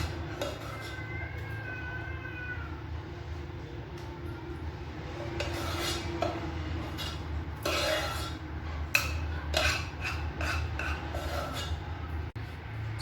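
Bowls of homemade baby weaning food handled on a kitchen counter, with scattered light clinks and scrapes of dishes and spoons over a steady low background hum; no speech.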